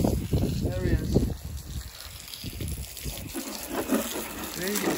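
Water from a garden hose splashes and gushes while a truck is washed outdoors with a dog playing nearby. The spray rises and falls in irregular bursts, close and fairly loud, with voices talking over it.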